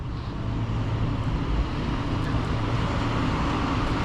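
Steady low engine and road rumble from a 2020 Mercedes-Benz E53 AMG sedan on the move, a continuous close cabin drone with tire and wind noise and no talking.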